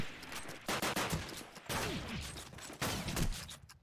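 Rapid bursts of gunfire in Call of Duty 2 during a competitive bomb-site round, several sharp overlapping shots in quick clusters with brief gaps, close and loud, including shotgun blasts.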